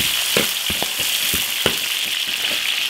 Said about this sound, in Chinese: 花椒、辣椒、香料，炒香。